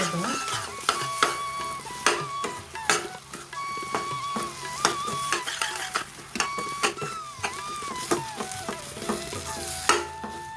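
Amla pickle sautéing in oil in a pan, with a bubbling sizzle and frequent sharp scraping and clinking strokes of a ladle against the metal, and a voice speaking over it at times.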